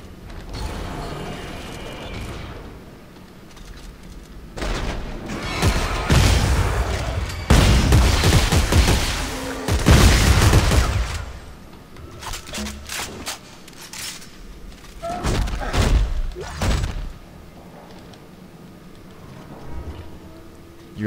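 Shotgun blasts in the sci-fi horror shooter Dead Space 3, several heavy booming shots in clusters, loud and close, mixed with mechanical creaks and clanks between bursts and no talking.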